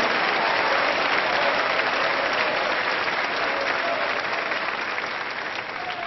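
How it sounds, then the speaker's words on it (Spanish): A church congregation claps together during a Christian sermon, a dense steady applause that holds loud throughout and eases slightly toward the end, with no speech over it. "Dele palmas al Rey. Dele alabanzas al Rey."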